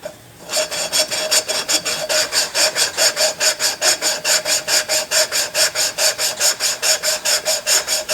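Abrasive lapping compound grinds rhythmically against a Fairbanks 3HP Z engine part, a steady back-and-forth rasping stroke repeated about three times a second, close and alone.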